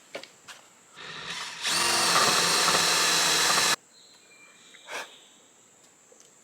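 A power drill bores deeper into wood for a couch bolt on a DIY outdoor couch, one loud steady whir of about two seconds, close by, between faint clicks and insect chirps.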